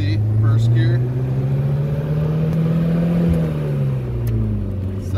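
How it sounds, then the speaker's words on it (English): A 1975 Citroen DS23 Pallas with fuel injection pulls away in first gear. Its mid-pitched engine hum rises steadily, close and continuous, with a faint whir. "Gonna do a test drive of my 1975 Citroen DS23, fuel injected AC, first gear."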